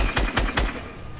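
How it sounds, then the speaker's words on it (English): Submachine gun fire in a first-person shooter video game, heard as three short, loud bursts in quick succession, then a fading tail with no talking. "I don't even know how many times I shot that dude with that submachine gun."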